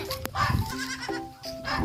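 Several wavering goat bleats, loud and close, overlapping with one another, with some farmyard noise in the background.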